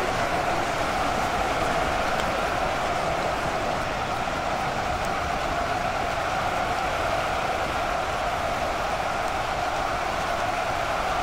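Rain falls steadily in a battle simulator video game, a continuous even hiss of dense rainfall with no breaks, moderately quiet and alone.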